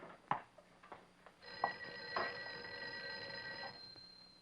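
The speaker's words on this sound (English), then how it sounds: "I think your phone is ringing." A 1959-era telephone bell rings in a sustained burst, faint and somewhat distant, preceded by a few soft knocks and clicks in a quiet room.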